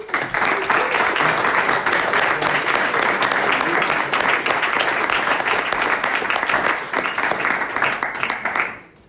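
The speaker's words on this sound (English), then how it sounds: "A big applause to them as well." Audience applause at a tech retreat talk session, dense steady clapping from a crowd filling the room for about eight seconds before fading out abruptly.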